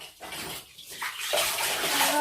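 Water from a shower rushes and splashes steadily while a child is bathed at home in the evening, a continuous hiss that breaks up briefly near the start as the flow shifts and then builds again.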